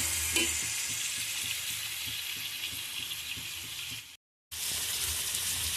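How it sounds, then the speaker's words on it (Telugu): Onion pieces frying in oil for a bottle gourd masala curry, a steady close sizzle with soft stirring clicks, cut by a brief silent gap near the end. "ఈ ఉల్లిపాయ ముక్కలు బాగా వేగనివ్వాలండి. 10 నిమిషాలు బాగా వేయించుకోవాలి ఎర్రగా."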